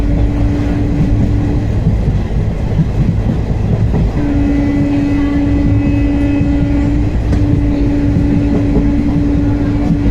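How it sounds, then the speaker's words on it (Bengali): A train pulls out of a station on a foggy morning, a loud continuous rumble of wheels and carriages close by, with a sustained horn-like tone sounding through much of the run. "ট্রেন আমাদের জাস্ট এইমাত্র ছাড়লো"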